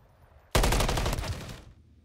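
A loud burst of automatic fire in a competitive shooter game comes from mid-street, one rapid stream of shots that starts abruptly, runs about a second, then cuts off to near silence.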